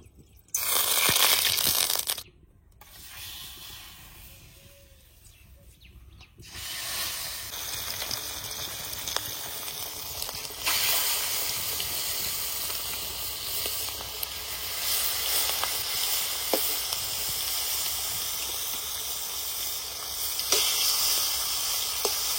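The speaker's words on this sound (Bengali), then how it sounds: "কড়াইতে সর্ষের তেল দিয়ে দেবো।" Mustard oil heats in a hot wok over a village wood-fired clay stove, giving a broad, steady hiss and sizzle that drops out briefly early on, then continues evenly and fairly loud.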